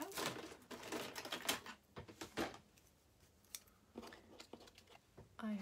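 Scissors cut out a paper squirrel for an art journal page, with close crisp snips and rustling paper in irregular bursts and pauses, and a voice murmuring briefly near the end.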